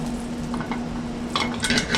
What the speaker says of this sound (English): while the butter is browning, you want to shake a little bit so it doesn't kind of sputter